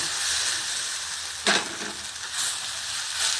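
Pork belly stir-frying in red curry paste, a loud continuous sizzle with a sharp scraping stir near the middle and softer stirring swells later.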